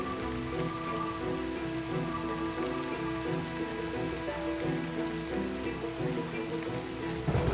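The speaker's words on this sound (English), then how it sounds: "the loud rain." Heavy rain falls steadily in the video game Shroud of the Avatar, a dense, constant hiss of drops on surfaces with a faint low rumble beneath, no voices.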